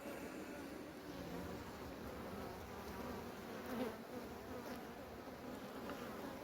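Honeybees swarm thickly at the entrance of a strong, crowded hive on twelve frames, a dense steady buzz heard close and fairly soft, with no talking over it.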